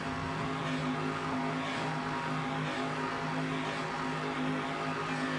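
Formula 1 race car engines in an all-star esports racing video game hold a steady, droning rev on the grid before the start, a sustained buzzing hum at moderate level with no talk over it.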